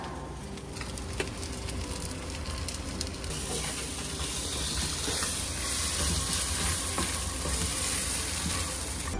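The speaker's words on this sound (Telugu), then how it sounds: "ఇంకా ఇది బేజా అయ్యే వరకు కొంచెం దీన్ని సిమ్లో పెట్టుకుందాం." Goat brain fry with coconut powder and garam masala simmers in a covered pan, giving a steady, fairly soft sizzle and hiss with faint ticks throughout.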